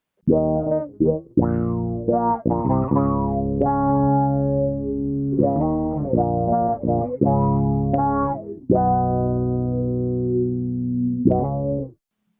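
A deep, thick bass guitar line run through an octave-down pitch shifter gives a synthetic sub-octave tone, playing sliding, sustained notes, loud and close, then cuts off.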